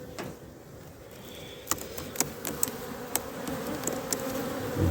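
Honeybees hum steadily around an open hive during queen rearing and honey-super work, a soft continuous buzz with a few brief louder passes close by.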